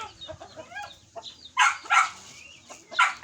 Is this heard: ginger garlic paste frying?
no